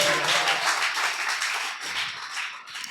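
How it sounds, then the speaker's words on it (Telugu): A church congregation at a Sunday worship service claps loudly and steadily, a dense wash of many hands that continues throughout without pause. "చప్పట్లు కొట్టండి గట్టిగా"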